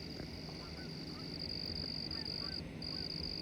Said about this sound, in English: Here goes another herd of geese.